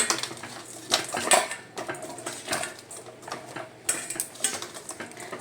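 Fish being mixed by hand with salt and turmeric in a metal dish, with repeated clinking, scraping and stirring sounds close by in irregular bursts.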